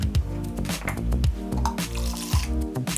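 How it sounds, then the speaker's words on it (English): Lemon juice poured from a juicer into a plastic lemonade slushy cup, with wet trickling, dripping and squishy splashes close by and a sustained tonal hum underneath. "So I just poured that into the cup."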